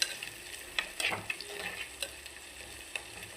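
Shallots and garlic sautéing in oil for a fish curry, a soft continuous sizzle with scattered crackles and light spatula ticks, quiet and close with no voices.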